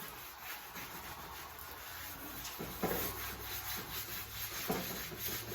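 Sandpaper rubs steadily across painted side step running boards for a Nissan Titan, a soft continuous scuffing with a few slightly louder strokes, close by and without talk.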